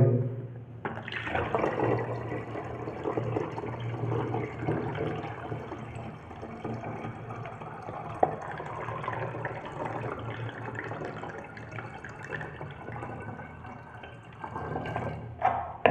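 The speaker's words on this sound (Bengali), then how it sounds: "ধীরে ধীরে এই জলটা এদিকে যাচ্ছে, ফের এই জলটা এদিকে" Water flows and trickles between three connected plastic bottles as levels equalize, a soft, continuous gurgling and splashing that fades gradually, heard alone and fairly close.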